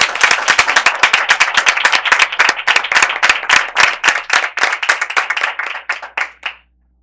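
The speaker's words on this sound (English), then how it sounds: "Let's give them a round of applause." School board meeting audience gives a round of applause for the transportation department staff, loud close hand claps in a steady rapid rhythm that hold for several seconds, then thin out and stop.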